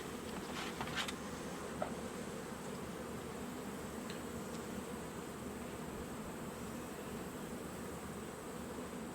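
Honeybees hum around a hive while a late-season queen is introduced, a steady, dense drone of many wings at low level, with a few brief nearer buzzes early on and no talk.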